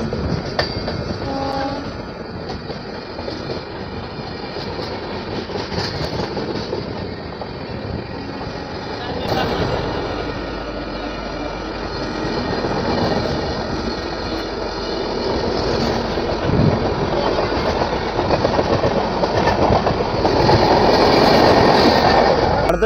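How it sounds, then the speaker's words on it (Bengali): A long-distance Vivek Superfast Express hauled by a WAP-7 electric locomotive rolls past, a continuous loud rumble of wagons and rhythmic wheel clatter building toward the end, with a brief horn-like tone early on. "ফাইনালি আসছে আমাদের বিবেক সুপারফাস্ট এক্সপ্রেস, শিলিগুড়ি লোকোমোটিভ ওয়াপ 7,"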